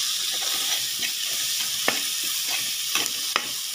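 Turmeric powder being stirred into a frying mixture in a pan for kothavarangai poriyal, with a constant close sizzle broken by occasional light scrapes and taps of the spoon.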